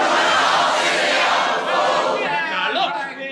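Children in a pantomime audience shout back a greeting all together, a loud, dense burst of many young voices that holds for about three seconds before thinning out.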